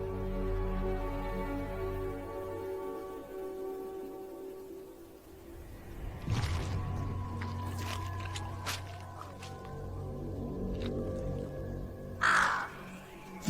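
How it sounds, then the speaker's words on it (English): Crows cawing in a wild forest where a tiger and leopards roam, with loud harsh calls from about 6 s and a sharp burst near 12 s over a steady low natural drone. "The crows that led him here"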